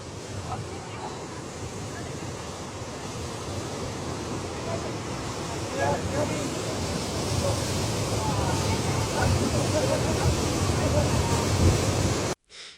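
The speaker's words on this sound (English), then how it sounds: "This is the dangerous scene of the embankment breach in Huazhong Village, Hekou Town, Xiangtan County, Juanshui." Floodwater rushing through an embankment breach in Huazhong Village, Hekou Town, Xiangtan County, during record rainfall flooding in China; a loud, continuous roar of churning water with faint voices mixed in.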